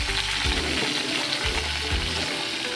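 Squash and eggplant fry in a pan for Filipino pinakbet, a loud steady sizzle with low thumps of stirring recurring every second or so, close up and without talk.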